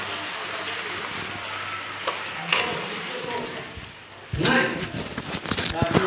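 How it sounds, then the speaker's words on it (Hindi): Spices fry and sizzle in oil in a pan for a Bengali chicken kosha, then a steady hiss flares louder as chopped tomato hits the hot pan and is stirred. "सारे मसाले को अच्छे से भूनेंगे और इसमें डालेंगे एक बड़े साइज की कटी हुई टमाटर"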